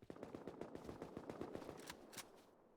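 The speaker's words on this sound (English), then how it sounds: "spamming from downtown with that very nice-looking AK." Rapid automatic AK rifle fire from long range in the video game Rust, a steady string of sharp shots at an even rhythm, moderately loud, ending in a couple of louder final cracks.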